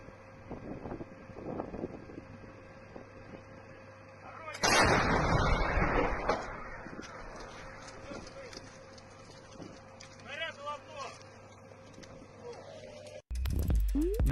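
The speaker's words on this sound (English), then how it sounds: "This is one of Russia's heavier artillery pieces." A Russian heavy self-propelled artillery gun fires near Kharkiv with a sudden loud boom that rolls into a long rumbling decay over wind noise, followed by a second sharp blast at the end, with voices talking in the background.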